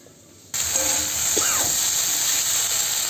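Potato and okra sizzle in a hot pan with a steady, moderate hiss, with a faint scrape or stir early on.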